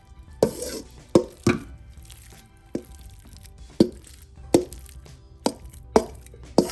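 A spoon stirs funeral potatoes in a pot, giving about eight sharp, irregularly spaced knocks and scrapes against the pot over a quiet background.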